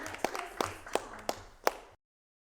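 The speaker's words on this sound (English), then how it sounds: "Do you want to give that a round of applause?" A handful of sharp, separate claps sound at an uneven pace, about five strikes over two seconds, before cutting off abruptly.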